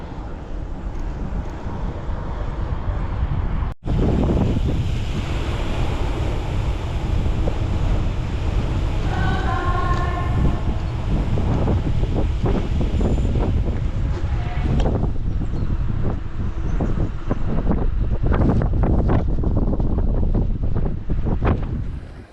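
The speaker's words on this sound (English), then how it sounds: "Easy miles with a strong crosswind." Strong crosswind buffets the microphone while cycling along a quiet road in Navarre, northern Spain, a constant loud roaring rumble that swells and gusts throughout, with no talking.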